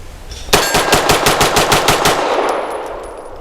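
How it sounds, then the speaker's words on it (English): A Tisas Tank Commander 9mm 1911 pistol fires about eleven loud shots in a fast, even string, and the shots ring out briefly after the last one. No voices are heard. "I'm gonna shoot at the same torso, just looking to burn it down."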